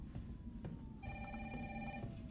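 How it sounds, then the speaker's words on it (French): A telephone rings in the survival horror game Resident Evil 3, a faint electronic bell trilling in a short burst over a low background drone, with no talking. "Il y a le téléphone qui sonne."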